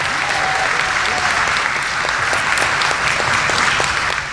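A large dinner audience at a 2024 service awards evening applauds loudly and steadily for long-serving employees, a thick, continuous wash of clapping that holds at full strength throughout.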